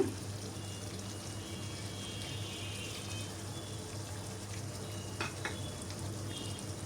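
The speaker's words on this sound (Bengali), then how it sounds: "এখন আমি ঝুলের পানি অ্যাড করলাম" Water goes into a pan of potato and meat curry with chui jhal, a faint pour over a soft, steady sizzle of the cooking, close and quiet.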